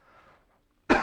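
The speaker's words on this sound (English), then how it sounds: "Here I am coughing right into it." A man gives a single sharp cough right into a close microphone, loud and sudden after a near-silent stretch.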